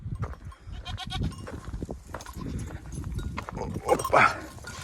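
Young female goats, seven newly bought doelings including white ones and Alpine-type horned goats, on a farm, with a short bleating call near the end over a busy background of hoof shuffling and general animal activity.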